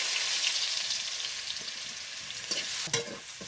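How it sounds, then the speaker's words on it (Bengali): Chopped garlic sizzles steadily in hot oil for chicken fried rice, a close, even hiss with a few soft stirring clicks near the end. "দেখুন রসুনটা হালকা ভাজা হয়ে গেছে।"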